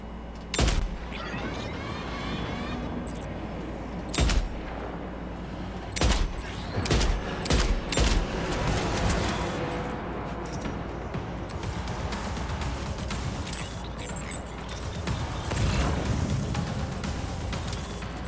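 Sniper rifle shots in a video game fired at robots ring out as sharp, loud isolated bangs, with a rapid cluster of several near the middle, over a constant rumbling background.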